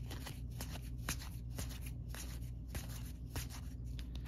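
Cards from the Star Wars deck-building game being handled and shuffled, a steady papery flicking and rustling close by with soft repeated snaps, over a low background hum.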